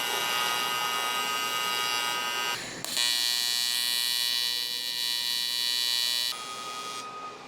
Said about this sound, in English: So we're just wire brushing one direction